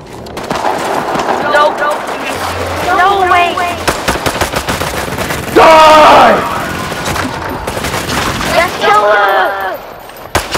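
A minigun in the video game Bloodhunt fires in long, dense, loud bursts with rapid repeated shots, while players talk excitedly over the gunfire.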